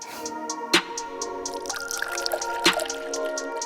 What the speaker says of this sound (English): Now my tea is ready, so I'm just going to pour it into my tea kettle